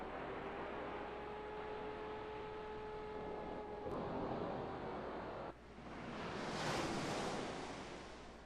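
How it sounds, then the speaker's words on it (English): A very large wave surges ashore in a Second Life virtual beach scene, a broad rushing roar that swells midway and sweeps loudly over the shore, with no voices. "A very large wave washes ashore, overcoming your avatar and everything in its path."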